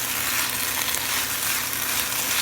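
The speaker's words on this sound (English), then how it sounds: "So all I'm going to do is just kind of saute this" Steady, loud sizzling of tomatoes and zucchini sautéing in a pan, a continuous close frying hiss with no talking.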